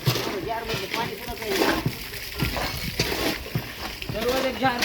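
Water gushes and splashes continuously, being collected into drums, while several people talk loudly over it nearby.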